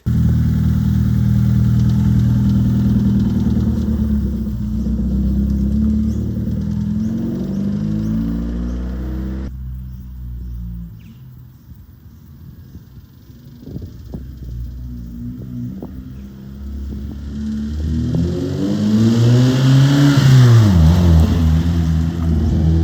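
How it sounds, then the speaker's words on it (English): Engine of a 1997 Hyundai Coupe SFX, running smoothly without misfire, heard close and loud: steady idle, a quieter stretch, then revving that climbs and falls. "There is no misfire now. It runs absolutely perfectly."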